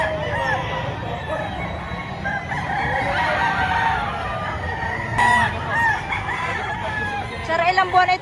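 At a busy chicken market in Padre Garcia, a rooster crows loudly over a steady hubbub of clucking birds and crowd noise, with people talking nearby.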